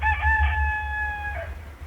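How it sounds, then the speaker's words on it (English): A single rooster crow sound effect from a digital stamp rings out, clear and close, holding a long drawn-out call before trailing off. "So this is a rooster."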